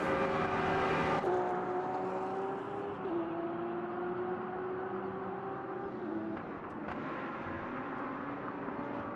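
Several race cars from a racing video game roar past one another in a close overtaking battle with a Porsche and a Lamborghini, engines droning and shifting pitch steadily and loudly throughout, with no speech over them.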